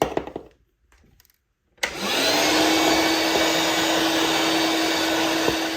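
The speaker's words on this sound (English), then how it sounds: "This, Ian, is a vacuum cleaner. Highly recommended, love it" After a couple of soft clicks and near silence, a vacuum cleaner switches on close by and runs with a loud, steady whine and roar.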